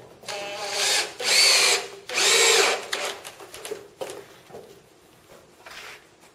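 A power drill drives screws while a studio wall is being framed, with two long high whirring runs close by, followed by shorter bursts and light clatter, growing fainter toward the end, with no talking.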